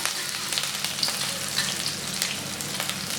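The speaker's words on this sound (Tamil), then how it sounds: "கருவேப்பிலை போடணும். இதெல்லாம் பொரிஞ்ச உடனே" Curry leaves splutter and crackle in hot oil during a prawn fry, a steady dense sizzle with sharp pops scattered throughout, close and continuous with no voices.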